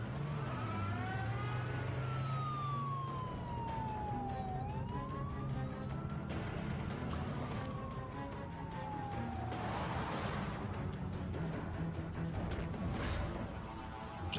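A 4x4 tears away at speed with engine revving, while a police siren wails and sweeps in pitch through the scene, loud and continuous with a crash-like burst partway through.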